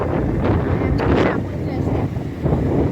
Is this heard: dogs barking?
no